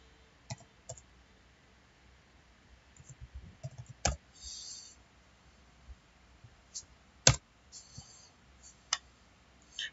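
Sparse mouse clicks while building a parametric family in Revit, a few sharp isolated clicks spread across the stretch, two louder than the rest, over faint room noise.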